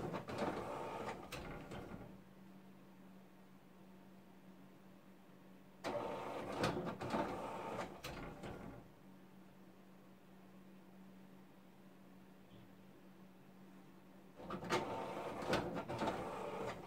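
The compressor inside an HP T120 printer pumps up its ink cartridges in three separate bursts of low whirring and rattling, with a quiet steady hum between them.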